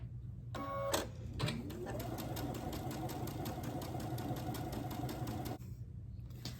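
A sewing machine stitching appliqué pieces onto a quilt block, starting with short bursts and then running in a steady, rapid mechanical whirr with a rhythmic needle clatter for several seconds before stopping, fairly quiet and close.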